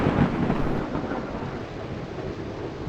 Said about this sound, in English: That thunder will scare them away soon enough.